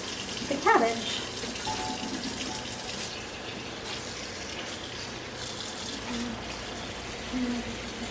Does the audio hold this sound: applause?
no